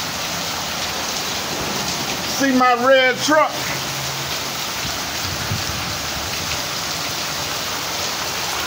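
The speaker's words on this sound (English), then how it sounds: "It's raining like cats and dogs," Heavy rain pours down in El Paso, Texas, a dense steady roar of drops hitting surfaces all around, loud and continuous, with someone briefly speaking over it partway through.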